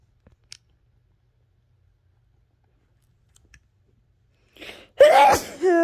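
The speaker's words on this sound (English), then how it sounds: "That's why I'm sneezing today and my nose is running" A single sharp human sneeze bursts out at the end, loud and close, after near-silence broken only by a few faint clicks, with a short sniffly breath-like rustle just before it.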